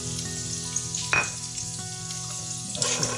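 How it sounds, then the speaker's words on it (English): Polenta sizzles and crackles in a hot pan while being stirred, a dense continuous frying hiss with a few louder scrapes and clatters of the spoon, close and without talk. "Go ahead and add my polenta. Give it a stir."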